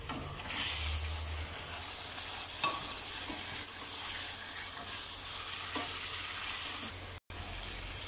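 Chicken frying in a pan with golden-browned onions and garlic-ginger paste sizzles steadily and close, with stirring scrapes throughout and a brief silent cut near the end.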